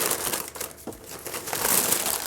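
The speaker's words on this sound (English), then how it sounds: "wrapping paper." Wrapping paper crinkling and rustling steadily as a crankshaft from an N55 engine rebuild kit is unwrapped from its box, close and continuous with brief crushing accents.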